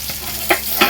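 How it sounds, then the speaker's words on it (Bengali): Four pieces of katla fish frying in oil give a brief burst of close, bright sizzling with two sharp spattering pops. "এখানে কাতলা মাছ ভাজছি চার পিস কাতলা মাছ করবো আলু দিয়ে"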